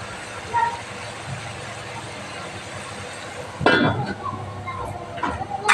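A lid going onto a cooking pan of lao chingri, a Bengali dish of bottle gourd with shrimp: a sharp metallic clatter near the middle, then lighter clinks over a steady kitchen hum.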